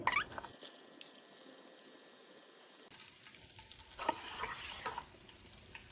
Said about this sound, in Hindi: ऑयल के अंदर अब इन बॉल्स को डाल के डीप फ्राई करेंगे